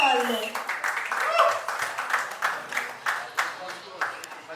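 At the Non Stop Dhamaal trailer launch, an audience claps to welcome the film's director on stage. The clapping comes in scattered, uneven bursts beneath a host speaking into a microphone.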